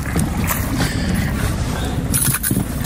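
A fishing boat's outboard engine runs on a lake in Northern Ontario during walleye fishing, a steady close rumble mixed with wind and water noise, with no speech.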